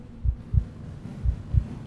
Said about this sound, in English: And that's a heartbeat.